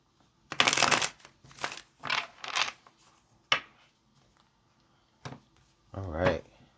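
Tarot cards being shuffled in several bursts of riffling and flicking, close and crisp, with brief pauses and a short soft voice near the end.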